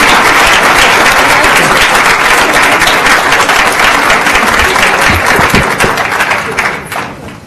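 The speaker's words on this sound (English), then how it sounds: "So everybody, please give these students and staff a round of applause again." A crowd at a board of education meeting claps for students and staff, loud sustained applause from many hands nearby that thins and fades toward the end.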